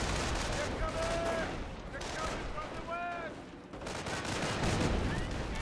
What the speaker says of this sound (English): And now got a artillery barrage now raining on in. This will probably destroy the bunker.